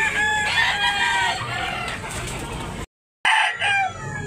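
Roosters crow and chickens cluck at a poultry market in Tabunok, Talisay, Cebu, several overlapping harmonic crows filling the foreground, broken by a brief gap of silence before more calling resumes.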